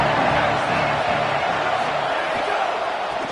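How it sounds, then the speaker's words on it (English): A stadium crowd in the College Football 27 video game roars steadily through a big third-down play, a dense, unbroken wash of cheering with no pauses. "Big 3rd down as the crowd gets behind this defense."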